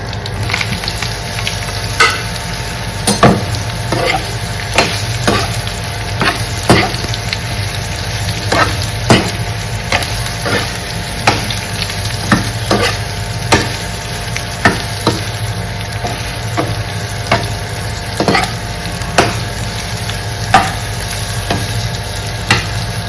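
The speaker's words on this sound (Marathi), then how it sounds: "कारले मस्त फ्राय होऊ देऊ कमी गॅसवर" Bitter gourd frying on low gas in a pan with garlic, curry leaves and onions, a continuous sizzle broken by frequent sharp pops and scraping stirs, close and fairly loud with no talking.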